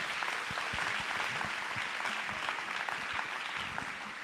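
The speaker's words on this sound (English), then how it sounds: "So I think you all need to give yourself a nice round of applause for being here." Students at a Grade 10 maths workshop in Khayelitsha give a steady round of applause, many hands clapping densely together at close range with a faint voice now and then underneath.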